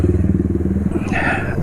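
Steady diesel engine idling smoothly on worn diesel oil, a close, even low rumble with regular firing pulses throughout, briefly overlaid by a higher mechanical whine near the end.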